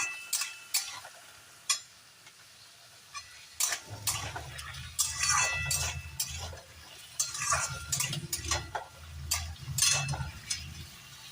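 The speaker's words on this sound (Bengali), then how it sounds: "লবণ দিয়ে এবার আমি ভালোভাবে আলু আর পেঁপেটা ভেজে নেব।" Potatoes and papaya frying with salt in a pan, starting with a few sharp utensil clicks, then a steady low sizzle under repeated scraping and clinking stir strokes, close and moderately loud.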